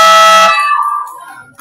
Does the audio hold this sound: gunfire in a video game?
no